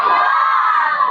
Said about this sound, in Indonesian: Ibu-ibu teriak, panjang!